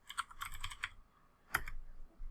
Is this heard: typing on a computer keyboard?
yes